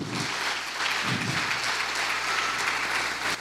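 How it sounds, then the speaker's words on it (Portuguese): A church congregation applauds together in a dense, continuous round of clapping with a steady loudness and little speech. "Irmãos, às vezes, pode aplaudir Jesus"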